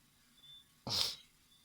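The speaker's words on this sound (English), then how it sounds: "of course, I had to sneeze" A single sharp sneeze, close and fairly loud, bursting out after a quiet moment.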